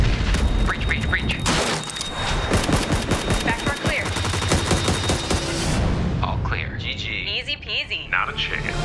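In the video game PUBG, a squad's gunfire crackles in rapid bursts and a frag grenade booms, loud and dense for several seconds before fading into softer rustling and movement.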